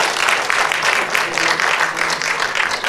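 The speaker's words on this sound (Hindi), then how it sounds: "एक बार जोरदार ताली हो जाए।" Audience at a media award ceremony applauding steadily, a dense, continuous patter of clapping that holds at an even level throughout with no voices on top.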